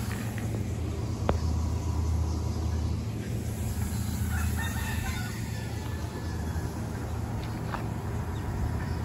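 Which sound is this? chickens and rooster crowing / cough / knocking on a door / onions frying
chickens and rooster crowing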